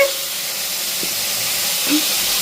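Okra frying in hot oil with black cumin, salt and turmeric gives off a steady, even hiss of sizzling that holds throughout, with a faint soft clink partway through.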